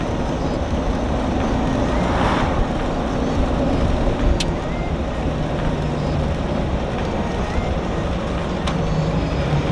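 A 2003 Jeep Wrangler TJ with a replaced transmission rumbles in a steady low drone while driving, with a couple of brief clicks suggesting gear shifts.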